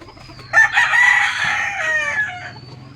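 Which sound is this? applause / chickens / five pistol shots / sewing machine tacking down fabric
chickens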